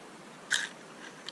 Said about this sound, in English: Oh, hear that crunch?